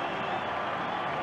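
A rugby league crowd cheers after a try at a 1997 Parramatta versus Illawarra match, a steady, distant wash of crowd noise and applause heard briefly without break.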